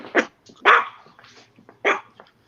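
A dog barks indoors, three sharp nearby barks spaced irregularly over a couple of seconds, with softer huffs between them and a faint low hum.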